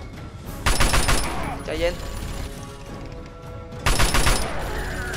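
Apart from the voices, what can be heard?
super mutant firing a minigun in the video game Fallout 3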